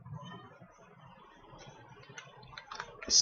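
Light clicking of keys on a computer keyboard while someone types text into a Microsoft Word form, soft and fairly close, with a few sharper key strikes toward the end over a faint room hum.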